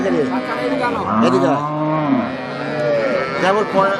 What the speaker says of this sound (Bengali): রানী গরু এটা কি বাচ্চা এটা বাচ্চা